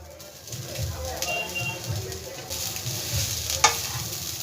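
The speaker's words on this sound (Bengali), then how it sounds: "পুলি পিঠের পুরটা ওভেনে কড়া বসিয়ে দিয়েছি, কড়াটা আমার গরমও হয়ে গেছে। এবার নারকেল কুড়োগুলো সব আমি এর মধ্যে দিয়ে দেবো।" Grated coconut dry-roasts in a hot pan over a low flame, giving a soft continuous sizzle with scraping stir strokes. Faint bird calls sound in the background, and one sharp clink rings out near the end.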